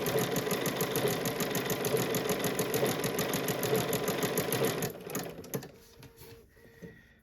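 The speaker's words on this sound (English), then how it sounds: "I'm going to start my stitching." A Bernina 770QE sewing machine stitches fabric ruffles with a fast, even mechanical whir and needle clatter for about five seconds, then stops, leaving a few quiet handling sounds.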